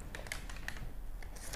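Scissors cutting a fabric dart for a turtleneck, a quick series of close, light snipping clicks with no voices.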